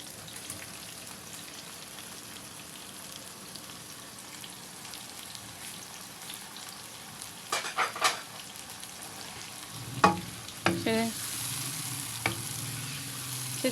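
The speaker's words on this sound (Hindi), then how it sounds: "अब हम इसके अंदर ऐड करेंगे फ्राई किए हुए बैगन।" Fried brinjal being stirred into potato sabzi in a pan: a quiet background sizzle, then a few louder spoon scrapes and clatters toward the end, with no talking.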